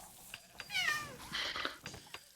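A house cat meows in a few short, fairly quiet calls at close range indoors, with soft background noise and no talk.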